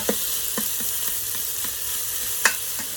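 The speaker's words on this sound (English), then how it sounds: "Give those a little stir around and saute those until they soften up a little bit" Onions sauté in olive oil in an Instant Pot on its sauté setting, a soft continuous sizzle broken by light rhythmic taps and scrapes of a stirring spoon against the pot.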